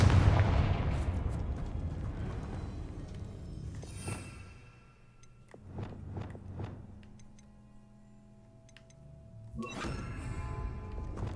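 Confringo spell blasts in Hogwarts Legacy combat, a heavy boom that rolls out loudly at the start and fades, then a few sharper bursts in the middle and another crackling blast near the end over game music.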